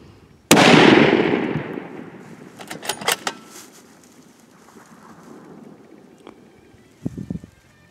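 A long-range rifle shot fired at a groundhog about 520 yards away, one loud sharp crack at close range with a long rolling echo decaying across open country, followed by a few faint clicks and quieter handling sounds.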